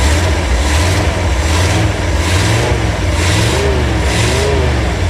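A hot rod engine with an early-opening choke runs close and loud. A continuous rumble rises and falls in a few gentle revs, with no voices over it.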